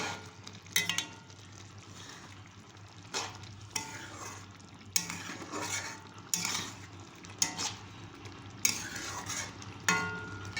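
Spices fry in a pan while a utensil stirs and scrapes in repeated bursts of clatter over a soft, constant sizzle, fairly quiet and close, with no speech.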